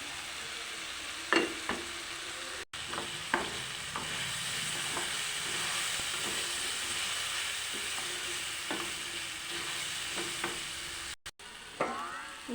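Fried moong dal with turmeric, green chilli and salt sizzles in a pan, a steady low frying hiss broken by repeated scraping stirs of a spoon, with no talk.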